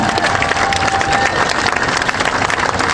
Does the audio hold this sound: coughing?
no